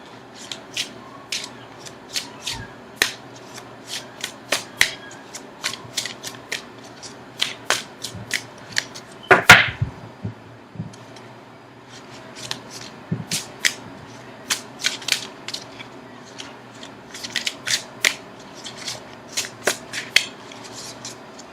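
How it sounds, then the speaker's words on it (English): Tarot cards are shuffled close up with a long run of crisp, irregular riffling clicks and flicks, including one louder riffle partway through, and no talking. "I'm going to shuffle for an outcome card"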